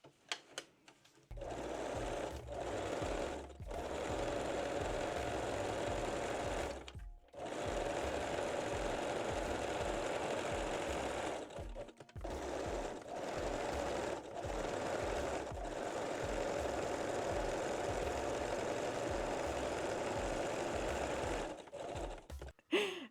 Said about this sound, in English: we can fold the elastic and stitch both leg openings again